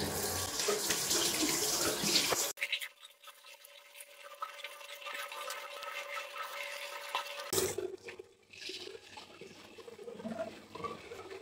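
Tap water runs steadily into a sink while a clay face mask is rinsed off. The loud close gush is cut off for several seconds in the middle, then flows again with splashing and patter from hands in the stream.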